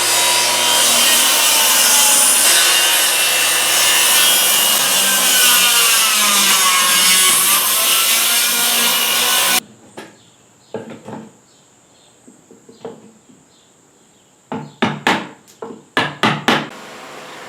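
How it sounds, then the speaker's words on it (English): A circular saw cuts freehand through bowling alley wood to make dados, giving a loud, sustained whining cut that ends abruptly, followed by scattered knocks and taps. "I can just take the circular saw and just freehand some cuts through there"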